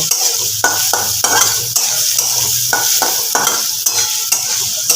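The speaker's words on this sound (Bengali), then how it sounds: "আলুগুলো আমি দিয়ে দিব আলুগুলো একদম লাল করে ভেজে নেব" Potatoes fry in hot oil with a little turmeric, a loud close sizzle broken by repeated scraping and clinking strokes of a spatula against the pan.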